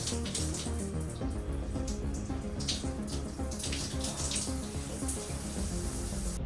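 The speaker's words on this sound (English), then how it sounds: "I'm gonna hop in the most cold shower I've ever taken" Cold shower water pours steadily in a cruise ship cabin bathroom, a continuous broadband splashing hiss with no speech.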